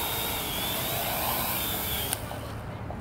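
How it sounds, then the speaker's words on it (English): Parrot AR.Drone quadcopter landing, a steady loud whirring rotor drone close by that cuts off abruptly near the end, leaving a quieter hum. "And to land, you just tap the land button."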